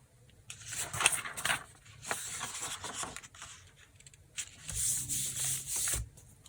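Paper rubbed by hand over a leaf print on a gelli plate, a soft close scratchy rubbing in several uneven strokes with brief pauses, quiet and without talk.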